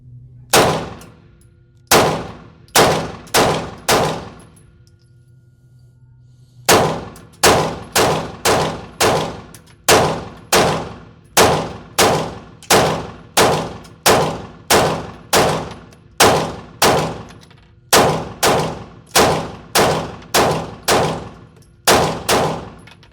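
A Glock 19X fitted with an S-Pro brace fires a long string of sharp, loud shots at steel targets, a few spaced rounds, a pause, then a rapid steady run of cracks, each ringing off with a metallic clang.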